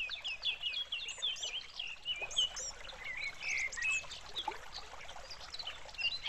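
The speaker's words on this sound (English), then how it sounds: "And the water in the creek?" Creek water flows and gurgles in a constant soft rush while birds chirp busily over it, everything heard outdoors at a moderate distance.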